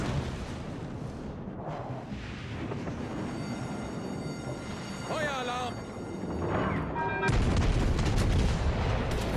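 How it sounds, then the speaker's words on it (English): Cruiser naval gunfire in World of Warships: Legends: a rumbling barrage of heavy shell blasts and booms that swells toward a loud closing impact, with a voice speaking over the battle. "Aoba's taking fire from the adjoining cruiser"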